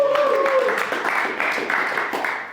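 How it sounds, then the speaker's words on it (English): At a motivational leadership event, the audience gives itself a round of applause, with scattered claps and cheering mixed over a sustained musical or vocal tone. "Give yourselves a huge round of applause for being here."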